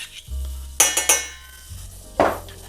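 Spoon or whisk clinking and scraping in a pan while stirring goulash sauce with butter, a few sharp metallic taps over a soft low hum, no talk.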